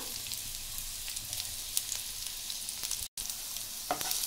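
Ginger, curry leaves, green chillies and onion pieces sizzle in hot oil for cauliflower manchurian, a continuous close crackling fry with a brief dropout near the end.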